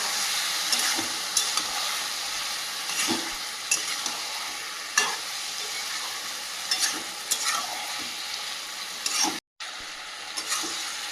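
Parboiled goat meat sizzles steadily in a hot pan as it is sautéed, with periodic spatula scrapes and clacks close by, one brief dropout near the end, and no voices.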